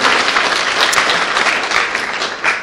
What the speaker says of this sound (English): let's all give ourselves a big round of applause for making this successful so far.